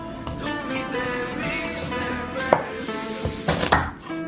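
Knife strokes chop a pear on a cutting board, a few crisp, close knocks spaced unevenly over steady background music.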